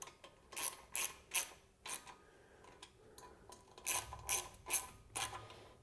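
A ratchet tightening the small mounting bolts of a lead acid battery upgrade kit, two bursts of quick metallic clicking strokes separated by a short pause, close and clear with no talking.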